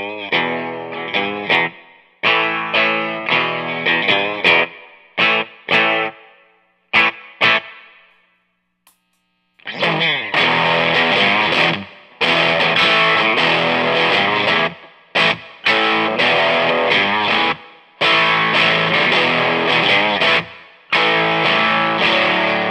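Electric guitar from a Haze Vintage Series Rad Custom Shop through a Mineta Solimps amplifier with a Mad Professor Silver Spring Reverb, loud and distorted, with choppy staccato chords, a brief silence, then sustained strummed passages.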